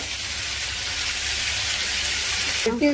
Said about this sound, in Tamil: நல்லா பச்சை வாசனை போற வரைக்கும் நல்லா வதக்கிக்கலாம்